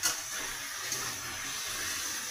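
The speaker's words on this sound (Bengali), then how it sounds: "আর একটু কষানো হলে জল দিয়ে দিলাম" Water poured into a pan of potatoes sautéing for aar macher jhal, a fish curry, making a steady, bright hiss and gush that runs evenly for a couple of seconds, close by with no talking.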